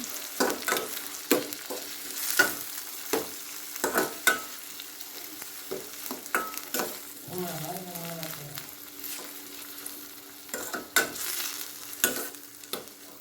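Mushroom gravy with chopped tomato stirred in a frying pan: repeated close spoon scrapes and clacks in an uneven rhythm over a low sizzle, with a brief faint voice midway.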